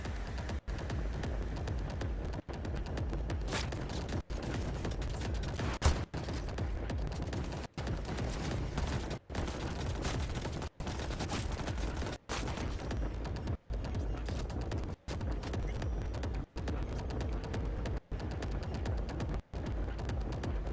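SMG gunfire in a video game: a steady, dense stream of rapid shots over more than twenty seconds, broken only by brief regular pauses, loud and continuous with no voices.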